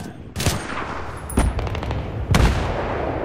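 Battlefield 3 gunfire cracks out in three sharp, loud shots or bursts spaced about a second apart, each with a quick echoing tail, over steady battle noise.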